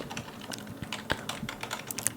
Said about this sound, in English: you're typing, trying to modify and change Excel tables, Excel spreadsheets